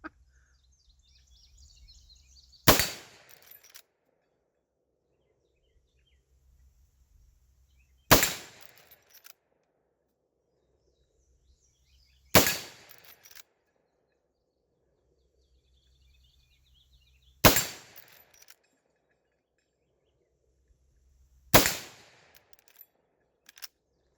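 Five sharp rifle shots from a Marlin Dark 336 lever-action in .30-30, fired unsuppressed at a small pockmarked steel plate about 60 yards out, spaced several seconds apart with quiet outdoor pauses and faint birdsong between.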